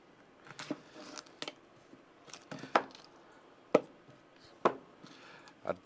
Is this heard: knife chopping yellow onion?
yes